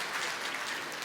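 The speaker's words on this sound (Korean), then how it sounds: "우리 축하하는 의미로 박수 한번 치고 시작할까요?" An audience at a Success Academy talk in Byeonsan applauds in a short, fairly faint burst of steady, dense clapping.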